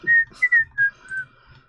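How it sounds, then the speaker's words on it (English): Someone whistles a short, wandering tune of several bright notes, close and clear in a quiet room, with a soft pause between phrases. "I'm gonna whistle as I'm sort of going through"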